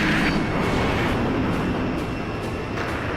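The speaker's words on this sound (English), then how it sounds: "They're almost setting off more secondary explosions." Secondary explosions in the Ace Combat 5 fortress mission roll as a dense, continuous rumble of blasts and booms, loud and sustained throughout with no talk.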